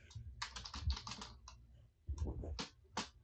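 Keys clatter on a computer keyboard in quick bursts of crisp taps, close and fairly quiet, with a short pause midway before the typing resumes.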